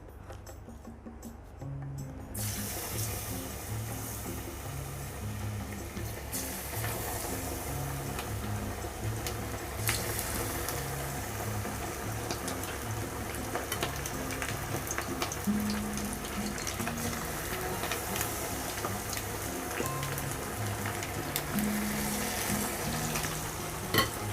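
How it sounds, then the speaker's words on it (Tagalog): Chicken frying in hot oil gives a loud, dense, steady sizzle that hisses close up and continuously, with a few brief spatters and stirring knocks. "meron na akong pinainit na mantika. So, pwede na nating i-fry"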